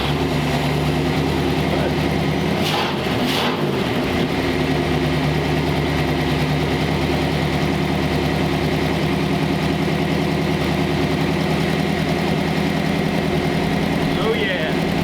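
A 1939 Ford Tudor hot rod engine runs steadily at a loud idle throughout, with a brief rougher burst near the start and no speech audible over the constant rumble.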